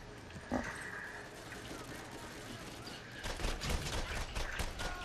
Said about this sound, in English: Oh, it's an elder skag.